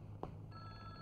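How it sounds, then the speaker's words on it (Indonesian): Old telephone ringing in a 1984 Indonesian comedy film, a single bell tone that starts partway through and rings on steadily, faint and without talk over it. "Tuh, telepon."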